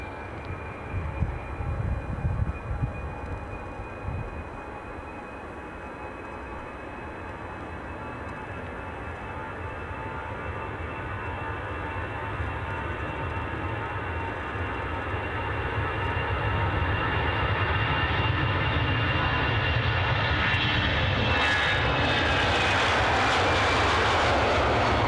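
A fixed-wing airliner departs Edinburgh Airport, its engine roar building steadily from a loud rumble to a louder, fuller thrust with a high whine, continuous for the whole stretch with no talking.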